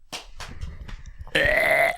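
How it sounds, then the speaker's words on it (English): A person on a podcast lets out a burp: several breathy, puffing exhalations, then one sustained, loud, close-miked belch at the end. "One more burp."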